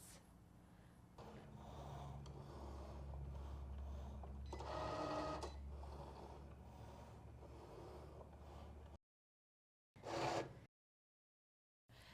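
A Cricut cutting machine on its light cardstock setting cuts out paper seed packet fronts, giving a low mechanical hum with whirring carriage movements that rise and fall. It goes quiet after about nine seconds, then a brief burst of motor noise follows.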